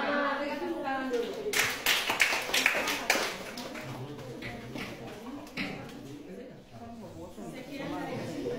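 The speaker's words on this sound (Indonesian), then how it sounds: "Berikan tepuk tangan dulu." Students in a high school physics classroom break into a short burst of close applause that lasts a couple of seconds, then voices talk as the clapping dies away.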